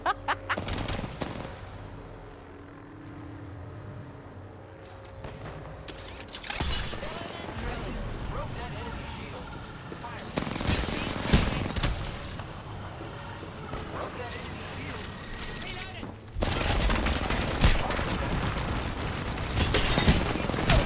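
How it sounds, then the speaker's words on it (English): Mozambique shotgun blasts and other gunfire in the video game Apex Legends, scattered loud bursts and impacts mixed with game noise and talking voices over the action. "try shooting the Mozambique behind you and jump"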